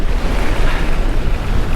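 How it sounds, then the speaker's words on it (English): Strong wind on an exposed mountain road in Swaledale buffets the microphone in a loud, roaring rush with gusty, rumbling bursts, no voices. "I'll give you one thing, it is very windy."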